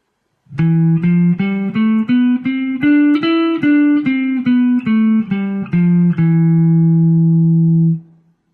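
A guitar climbs an E Phrygian scale one octave, one even note at a time, then descends, ending on a long ringing low note.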